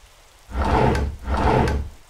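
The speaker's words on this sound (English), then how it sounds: "Why are you so violent with the drawers?" A drawer in the video game Evie slides open and then shut, two loud rough wooden scrapes each lasting about half a second, close up with a short gap between them.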